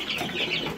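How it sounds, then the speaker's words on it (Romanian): Brief, faint chirping and peeping of young ornamental chicken chicks nearby, a soft cluster of high calls. "aici am a doua serie de puișori."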